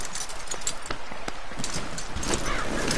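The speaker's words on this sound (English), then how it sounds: "Alright, my horse is here." Horse hooves clip-clop steadily in Red Dead Redemption 2, loud and continuous, mixed with game ambience and a brief neigh.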